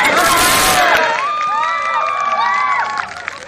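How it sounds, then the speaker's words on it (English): Golf fans at the LPGA BMW Ladies Championship cheering for Jin Young Ko: a loud burst of crowd cheers for about a second, then tapering off into scattered shouts and voices. "Giving the Flying Dumbos much reason to cheer"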